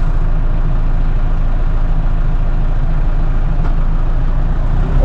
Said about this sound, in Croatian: Ja sam dosta brži od Marka, čak i kad idem na ovako manjem nekom gasu.